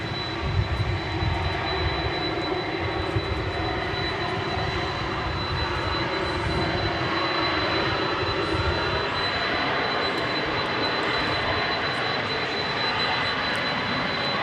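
A jet airliner roars steadily at Dallas Fort Worth International Airport at night, a loud, broad, continuous engine rumble with no talk over it.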